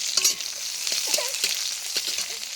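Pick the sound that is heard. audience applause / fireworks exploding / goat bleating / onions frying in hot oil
onions frying in hot oil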